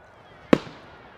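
A single sharp bird-control scare shot rings out at a distance at Amsterdam Schiphol Airport, a brief crack with a short echoing tail against quiet background hum.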